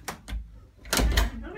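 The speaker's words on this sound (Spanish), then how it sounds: "Cierra la puerta." A door swings shut with a solid thump after a lighter knock, close by and fairly loud, while people talk in the same room.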